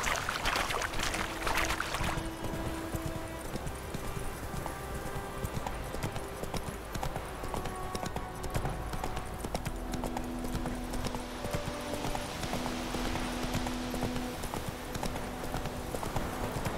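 Roach, the horse in The Witcher 3, gallops on in a continuous, dense drumming of hooves that stays loud and close, with game music tones sustained underneath.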